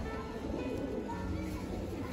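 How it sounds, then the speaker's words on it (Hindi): Malwai pigeons cooing in a loft, a soft continuous murmur of coos over a steady background hum, fairly faint and without talking. "देखिए मलवाई छतरी वाले कबूतर है भाई, फुल गारंटेड कबूतर है"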